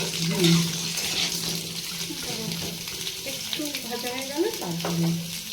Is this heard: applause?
no